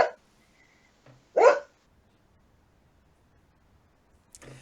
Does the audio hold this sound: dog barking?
yes